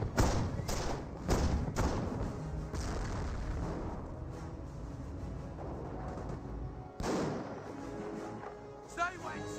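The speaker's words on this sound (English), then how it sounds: "seeing some Bofors fire" Repeated heavy thuds and booms of Bofors anti-aircraft gun fire in the Company of Heroes strategy game, irregular bursts at mid distance under steady commentary talk.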